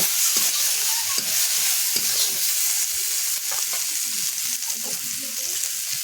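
Spice masala with chili and turmeric powder frying in a pan, a steady bright sizzle under repeated scraping and stirring strokes of a spatula, close and fairly loud throughout.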